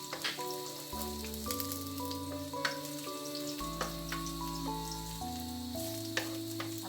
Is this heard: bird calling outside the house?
no